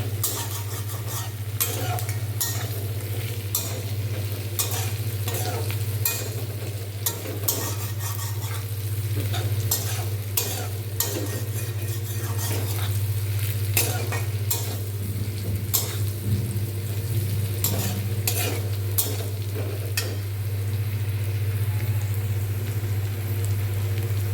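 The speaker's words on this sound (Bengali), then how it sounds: "বাস এভাবেই একটু নাড়াচাড়া করে ভেজে নেবে।" Spices fry with bitter gourd and dried boirali fish as a utensil repeatedly scrapes and stirs the pan, with rhythmic clatter over a constant low sizzle and a steady hum, and no voices.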